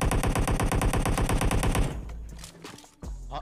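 Rapid automatic weapon fire from a battle royale video game rattles in an even burst for about two seconds, then cuts off, leaving quieter game sounds and a few thuds.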